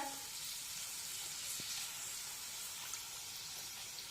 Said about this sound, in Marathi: दोन्ही बाजूने उलटपुलट करत या पुऱ्या आपण छानपैकी तळून घेऊया